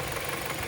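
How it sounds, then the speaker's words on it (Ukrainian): The engine of a Kia car idles quietly and evenly after a fuel-system cleaning, a steady low hum with faint rhythmic ticking and no voices over the brief moment. "Вирішив зазняти ще двигун. Працює тихесенько, тихесенько."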